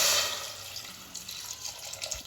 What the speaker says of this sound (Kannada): ಇದನ್ನು ಮುಳುಗೋವಷ್ಟು ನೀರು ಹಾಕ್ತಾಯಿದ್ದೀನಿ ನಾನು.